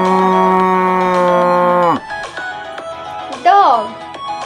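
A long, loud black-and-white cow's moo with a rich harmonic tone, then a shorter second moo after a brief pause.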